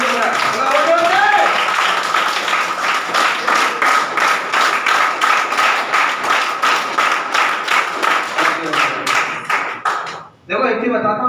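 A live seminar audience in Agar, Madhya Pradesh claps together, a loud, dense stream of rhythmic applause lasting several seconds before cutting off, with a voice briefly heard near the end.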